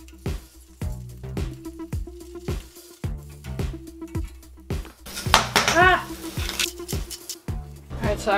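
Egg, onion, pepper and beans cooking in a pan with butter, heard as repeated sharp clanks of pots and utensils, scraping and stirring, and a sizzle that swells midway, close and fairly loud with no talk.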